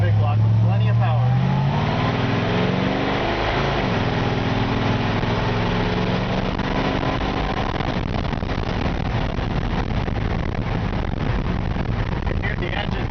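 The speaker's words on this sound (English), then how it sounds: "You hear the engine purrs like a kitten." A 1954 Ford F100 with a 429 big block engine and C6 transmission running at a steady idle, a continuous low rumble close by, with someone talking over it.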